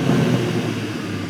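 A new BMW M2 engine runs with a steady, loud low rumble and a slight rise then easing in tone over a brief moment, heard close with no voices.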